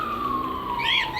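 A siren wails steadily through the whole second, a rising-falling electronic tone heard from a moderate distance, outdoors near an aviary, with a brief higher whoop near the end and no talking.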